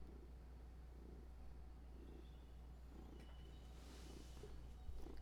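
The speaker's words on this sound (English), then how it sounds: "He's purring." A pet cat purrs close but quietly, a soft, rhythmic rumbling that rises and falls with each breath over a faint background hum.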